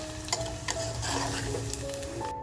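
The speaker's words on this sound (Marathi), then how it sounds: "तर बघा आपल्या काजूच्या बिया अशा छान फ्राय झाल्यात, काढून घेऊया" Cashews sizzle and fry in hot oil inside a clay pot, a steady close crackle with occasional stirring scrapes and no talking.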